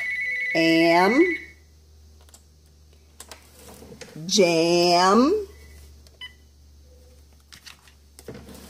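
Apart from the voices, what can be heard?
phone ringing and beeping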